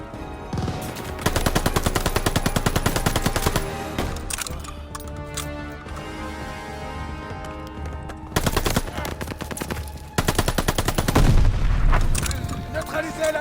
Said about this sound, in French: Neutralisez la mitrailleuse!